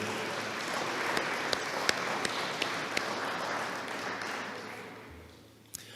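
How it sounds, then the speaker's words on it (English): Steady applause from an in-person crowd at a Wall of Honor induction ceremony, a dense, even wash of clapping with a few sharper claps standing out, fading toward the end. "if you guys could just give yourselves a round of applause"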